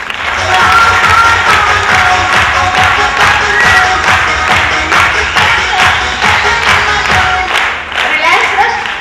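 At a business success seminar in Ludhiana, the audience claps together in a rhythmic beat over music, loud and close, with cheering mixed in throughout.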